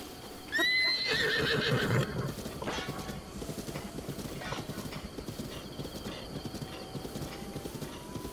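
Horse in The Legend of Zelda: Breath of the Wild giving one loud whinny near the start, followed by steady clip-clopping hooves that continue to the end.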